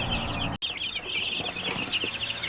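Chickens clucking softly in a brooder set on grass, a continuous chattering of small fowl calls at moderate distance with a brief dropout partway through.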